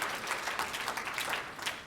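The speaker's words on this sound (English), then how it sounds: "Let's give them another round of applause." Audience applause at an Indigenous conference opening, a dense steady clapping from a crowd lasting about two seconds, fairly loud and unbroken.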